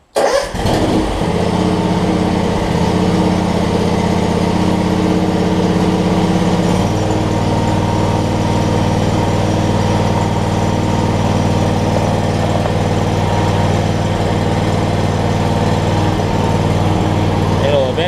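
A John Deere X300 lawn tractor with gas in its oil and white smoke runs close and loud: it starts with a sputter, then holds a steady rough idle, and the pitch drops slightly partway through.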